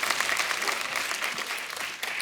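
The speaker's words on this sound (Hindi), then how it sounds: "जोरदार तालियां हो जाए" A television studio audience claps loudly and steadily, a dense wash of applause that carries on without pause.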